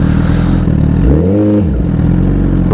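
A 2016 Honda CBR1000RR Fireblade motorcycle engine with a loud exhaust revs up sharply and drops back, loud and close, with a clattering exhaust throughout.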